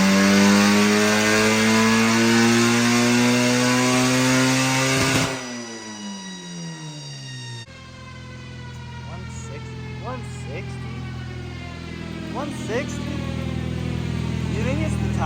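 A turbocharged Honda CRX engine revs hard on a dyno, a loud sustained wail climbing in pitch, then the revs drop and build again in a second rising pull, with voices faintly in the background.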